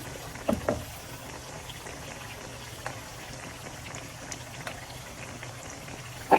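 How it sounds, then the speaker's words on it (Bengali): Battered eggplant slices frying in hot oil for beguni, a steady soft sizzle and bubbling throughout, with a few faint clinks and taps over it, close and even, no talking. "আমি বেগুনগুলো এভাবে চুবিয়ে নিব, তারপর তেলের ভিতরে দিয়ে দিব।"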